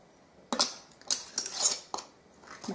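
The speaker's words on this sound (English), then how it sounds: "Put on your lid." Metal lid and band twisted onto a glass canning jar of mushrooms in French onion soup, giving several short, close clinks and scrapes spaced apart in a quiet kitchen.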